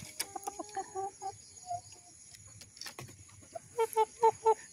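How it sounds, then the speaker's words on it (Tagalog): Chickens, including a crowing rooster, cluck and call in short repeated notes, ending in a run of evenly spaced, louder calls against a steady background hum. "So ito yung tumitilaok na lalaki natin"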